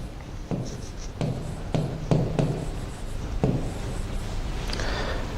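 A pen taps and strokes across an interactive flat panel touch screen in quick separate marks, each a sharp close tap with a short scratch, set against a quiet room hum.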